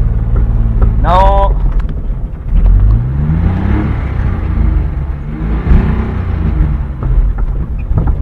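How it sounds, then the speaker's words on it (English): A car pulling away slowly in first gear, its engine a low steady rumble that rises gently in pitch as it moves off, with someone talking over it. "Now you take out your foot from gear and you press the speed."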